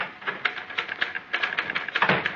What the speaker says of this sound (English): Melody was at her typewriter working on the usual sheet of paper